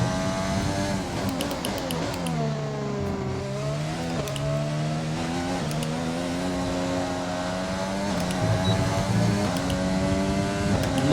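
A Formula 1 car in the F1 2020 racing game screams through a lap, its high engine note rising and falling through repeated upshifts and downshifts, loud and continuous with no talk.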